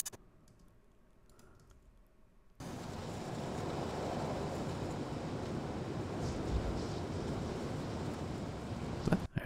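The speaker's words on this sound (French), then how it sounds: "on ajoute le vent. C'est ça qu'on entend quand on est sur le bord du fleuve" Wind sound effect of a riverbank, added in Final Cut, cuts in abruptly after a few seconds of near silence and then rushes on as a steady, loud, even hiss to the end.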